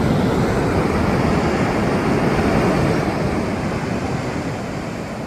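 Steady roar of surf washing onto Achara Wayangani beach, a continuous broad rush of breaking waves with light wind, holding fairly even throughout.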